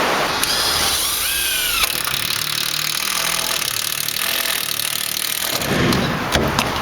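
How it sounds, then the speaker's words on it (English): A power drill drives screws into the lower frame of a trailer wall during a siding repair, with a whining motor that rises in pitch, steady buzzing and scraping through most of the clip, then short clicks near the end. "Now we have to start screwing these lower frame"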